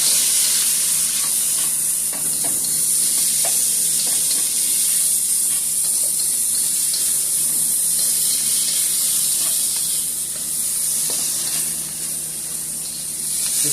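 Beef cubes and onions seasoned with oregano fry in a hot pan, a strong continuous sizzle close by, with occasional faint scrapes and clicks of stirring scattered through.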